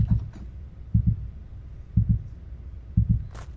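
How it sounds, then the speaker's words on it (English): A slow, steady heartbeat sound effect from the horror video game Witch Hunt: four low double thumps, evenly spaced about one second apart. Each beat is close, muffled and deep, with a quiet background and no talk. "my heartbeat should be bump, bump, bump, bump, bump"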